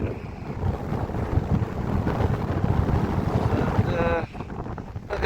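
Strong wind buffeting the microphone on a hilltop corner overlooking distant Manchester, a steady loud rumbling roar with gusty fluctuations and a brief faint whine near the end.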